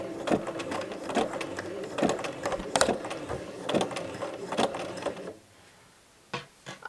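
A sewing machine runs a wide zigzag stitch along a skirt waistband, giving a rhythmic mechanical chatter with regular clunks about once a second, then stopping and leaving a few faint clicks.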